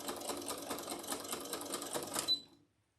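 A sewing machine stitches bias tape binding onto a quilt, a rapid, even mechanical chatter running for about two seconds before it stops abruptly, close and clear with no talking.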